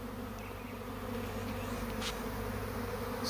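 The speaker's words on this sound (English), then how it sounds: "This is probably a cast swarm, meaning it's a virgin queen, but they're still landing." Honey bee cast swarm with a virgin queen landing outdoors, a steady dense buzzing hum of many bees that holds throughout at close range with no talk.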